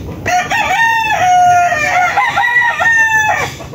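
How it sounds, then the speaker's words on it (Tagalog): A rooster crows loudly and close, long drawn-out calls with rising and falling pitch, while chickens cluck in the background, just after a typhoon. "mga manok dito."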